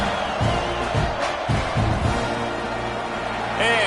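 Crowd roar from a Madden football video game broadcast, a steady stadium din with swelling cheers and a few sharper bursts before a kickoff.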